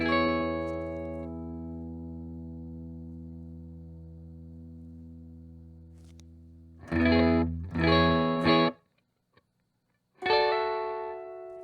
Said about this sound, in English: I'm going to start adding small amounts of distortion